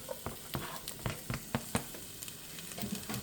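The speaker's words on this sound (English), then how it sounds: "We'll just be sauteing this around a little bit until the onions begin to soften." Celery and onion sautéing in a pot for Louisiana jambalaya, a close, soft sizzle broken by quick rhythmic scraping and stirring clicks, with no voices.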